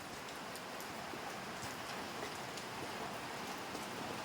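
Steady rain falls in a Philippine barangay on a cool morning, a continuous even hiss with no breaks, constant in level throughout.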